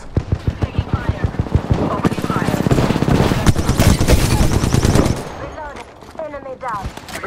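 Rapid gunfire rattles in the Apex Legends shooter game, first as spaced shots and then as a dense sustained automatic burst, loud and close, before it stops and gives way to a voice.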